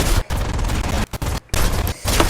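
Loud, close, continuous bursts of gunfire in the tank-combat video game War Thunder during a German vehicle match, with rapid overlapping shots and only brief gaps between them.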